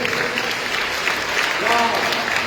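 Church congregation applauding during a service, a loud, dense burst of many hands clapping with voices shouting and a preacher calling out over the noise.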